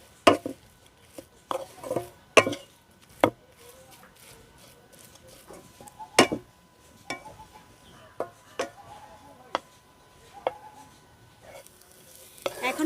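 Papaya pieces cooked with salt in a pan for halua are stirred with a spatula, giving sharp intermittent scrapes and knocks against the pan at an irregular rhythm over a faint background sizzle.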